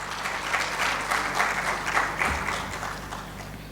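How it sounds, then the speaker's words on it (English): An audience at a teacher-leadership panel discussion applauds as a panelist comes on stage: close, dense clapping with rhythmic swells, steady for a few seconds before easing off, over a low constant hum in the room. "Please give her a big round of applause."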